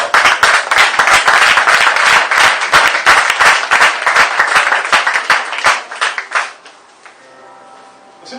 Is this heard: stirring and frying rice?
no